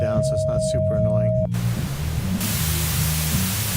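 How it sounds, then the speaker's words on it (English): Someone speaks briefly before generated white noise cuts in as a flat, continuous hiss during a sidechaining production demo, jumping louder partway through and holding steady. "So this is a white noise."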